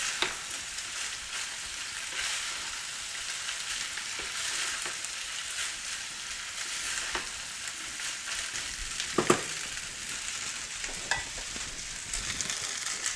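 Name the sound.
rice being stir-fried and turned in a pan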